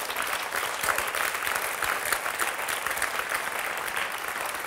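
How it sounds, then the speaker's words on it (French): A television studio audience claps loudly and continuously, a thick, even wash of applause that holds its level for the whole stretch. "Applaudissements."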